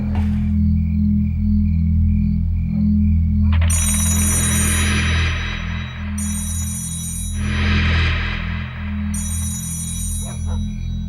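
A landline phone's electronic ring repeats in bursts over a loud, steady low hum, with a soft tone pulsing in the background.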